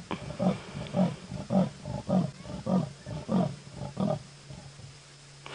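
A lion on an evening safari drive gives a series of about eight deep, rhythmic roaring grunts, steady and moderately distant, each a low pulsing huff, fading off toward the end.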